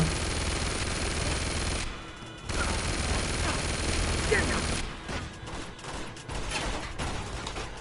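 Rapid bursts of video game gunfire from Uncharted, a dense, loud fusillade with brief lulls between volleys, joined by crashes and a speaking voice.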